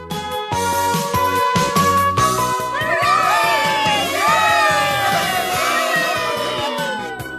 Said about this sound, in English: Shouted the kids in Miss Jones's class.